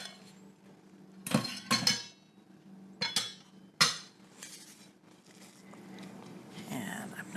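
Flour-coated fruit tumbles into a bowl of muffin batter, giving several quick clinking, clattering hits against the bowl, close and fairly quiet, with a voice talking softly in the background.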